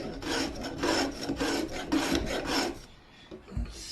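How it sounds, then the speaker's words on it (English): Draw knife shaving wood while rounding the corners of a ukulele neck, a series of rhythmic rasping strokes about half a second apart, close and fairly loud, fading at the end. "we're going to start with a draw knife, and I have a draw knife here that we can just start rounding these corners off"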